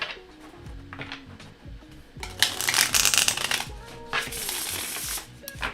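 A deck of tarot cards is shuffled by hand, giving close rapid riffling bursts and soft clicks, with one louder, longer riffle in the middle.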